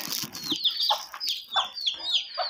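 Chickens cluck and squawk close by in a quick, irregular series of calls, fairly loud with no other sounds.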